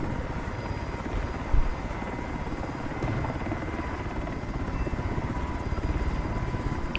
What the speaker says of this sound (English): we have a helicopter coming in hot